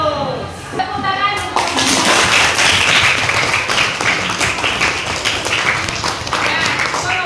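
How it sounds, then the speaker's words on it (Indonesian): Classroom of children clapping hands together in a burst of applause after a pupil's answer in a lesson, dense and steady throughout, with a teacher's and kids' voices mixed in. "Tepuk tangan"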